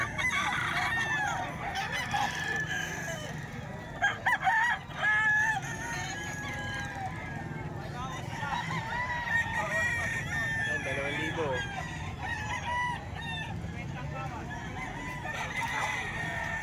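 Many chickens cluck and squawk together while roosters crow repeatedly over the flock, a busy, continuous racket nearby.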